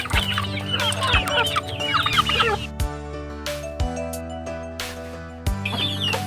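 Native chickens clucking on a farm, several hens close by with busy overlapping clucks and calls, broken by occasional sharp knocks, with no talking.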